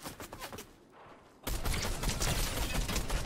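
Rapid bursts of gunfire in the Fortnite video game, a brief exchange up front, then a lull and a loud, sustained rattle of shots that continues dense to the end.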